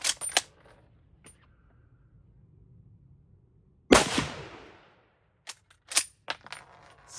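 An antique rifle fires one sharp, loud crack with a decaying echo midway, surrounded by lighter metallic clicks and clatters of the action being worked, close up.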